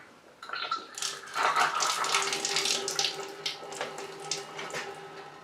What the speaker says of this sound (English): let me sparge these grains, and let's see if we can collect in another 6 gallons